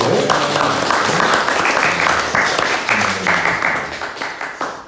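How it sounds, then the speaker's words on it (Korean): A church congregation claps during a Sunday worship service, a close room of hands under a voice at first, then tapering off toward the end. "자 박수."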